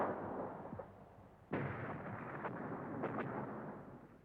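Distant artillery bombardment on the Verdun front in February 1916, heavy guns booming in irregular dull thuds and rumbles over a low continuous roar, with no voices.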